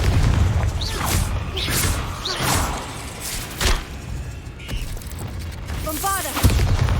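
Fire-spell blast in the video game Hogwarts Legacy, several booming impacts and crackling bursts layered over a continuous rumbling game soundscape, moderately loud with no talking.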